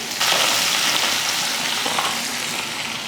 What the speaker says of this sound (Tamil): தாளிக்கிறதுக்கு எண்ணெய் ஊற்றிக்கலாம். கொஞ்சம் கடுகும் கொஞ்சம் வெந்தயமும் சேர்த்துடலாம்.